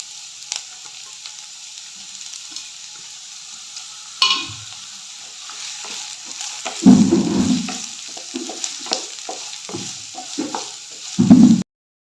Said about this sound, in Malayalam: ഇനി ഇതിലേക്ക് നമുക്ക് ചെറുതായിട്ട് അരിഞ്ഞു വെച്ചിട്ടുള്ള ഓനിയൻ ഇട്ട് കൊടുക്കാം